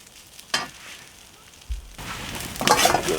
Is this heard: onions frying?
yes